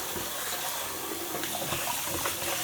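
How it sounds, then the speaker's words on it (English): Tap water running steadily into a kitchen sink while a pan is washed, a continuous close splashing hiss with small clinks and shifts in the stream. "So I'm washing this lovely pan, right?"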